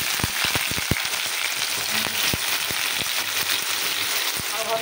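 Chopped bottle gourd hits hot oil with dried and green chillies, five-spice and bay leaf, giving a loud, continuous frying sizzle with sharp crackles and spatters, and a few clinks as it is stirred.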